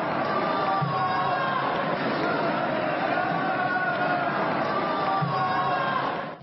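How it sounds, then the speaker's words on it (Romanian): A group of high school students boo politician George Simion at a ceremony, a steady crowd din of jeers and chatter sustained at even loudness throughout, with no single voice standing out. "se aude cum un grup de elevi pare a-l huidui pe George Simion încă de la începutul discursului"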